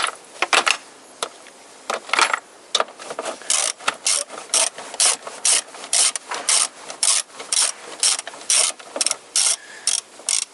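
Ratchet wrench loosening long power steering bolts on a Toyota Corolla, a rapid series of close, loud clicking bursts with short pauses between pulls, no talking.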